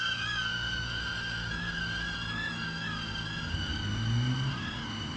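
A small Hover Air X1 AI camera drone circles around a person outdoors, giving off a steady high-pitched propeller whine with several layered tones and a low rumbling background, and no voices.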